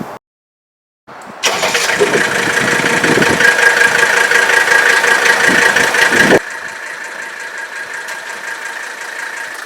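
A car's inline five-cylinder engine cranks and catches, revving loudly for several seconds before settling into a steady, quieter idle close by.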